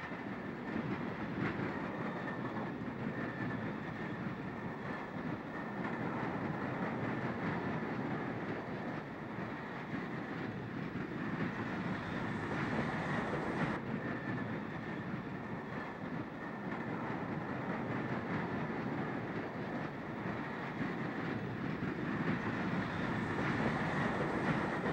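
An AB pair of EMD FT diesel locomotives, originally numbered 5700, pulls the Cascadian passenger train out of the Spokane depot with a continuous engine rumble and rolling rail noise.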